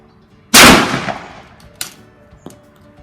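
A single loud, close shot from a Baikal gun cracks sharply and rings out into a decaying tail, followed by a couple of faint metallic clicks and clanks.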